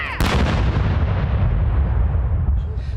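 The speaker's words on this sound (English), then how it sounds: "the King's Troop Royal Horse Artillery formed up to mark yet another record. A 21-gun salute, plus another 20 for good measure," A 21-gun salute by the King's Troop Royal Horse Artillery in a royal park, heard as one loud, sharp cannon boom followed by a long rumbling echo that slowly fades.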